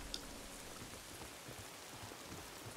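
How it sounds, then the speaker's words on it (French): Light rain in the video game Days Gone patters steadily and faintly, a soft even hiss of drops with no voices. "Ce petit bruit de pluie là."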